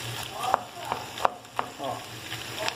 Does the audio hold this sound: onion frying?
yes